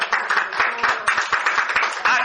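A church congregation claps in quick, uneven bursts, the loud hand claps close and rhythmic, with some voices mixed underneath.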